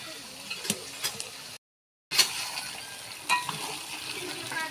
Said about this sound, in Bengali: বেরেস্তা ভাজা।